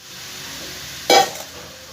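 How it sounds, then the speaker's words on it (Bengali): Potatoes being stirred into fried spice paste in a pan for raw banana kofta curry, heard as one short, loud scrape-and-sizzle burst over a quiet background hiss. "ভালো করে মশলার সাথে আলুগুলোকে আমি কষিয়ে নেব।"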